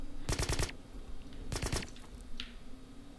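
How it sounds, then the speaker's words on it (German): Two short bursts of suppressed gunfire from the shooter game Black, a quick rattle of shots, a pause, then another burst, with a faint clink afterward over a steady low hum. "da meine Waffe jetzt auch so schön leise ist, kann ich hier aus der Entfernung gut auf ihn schießen"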